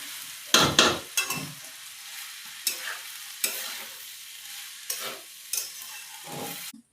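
Vegetable pulao with rice stirred as it fries in a pan: a gentle sizzle broken by several loud scraping sweeps of the spoon, uneven in rhythm, heard up close and with no voices.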